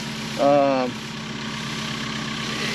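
A new Kubota tractor engine runs steadily in a hay field, a constant mid-pitched drone throughout with a short tonal burst near the start.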